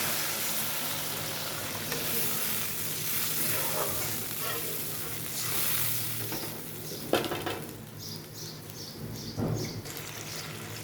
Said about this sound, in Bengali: মশলাটা কষানো হয়ে গেছে, এখন আমি এখানে জল দিয়ে দিচ্ছি